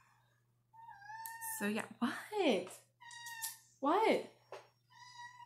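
A cat meows several times up close, drawn-out tonal cries rising and falling between bursts of a person talking, over a faint steady hum.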